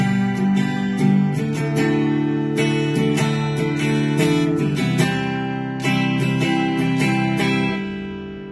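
Acoustic guitar strummed with down and up strokes in a steady repeating pattern, bright chord attacks ringing closely and loudly, with a short break midway before the pattern resumes, no talking.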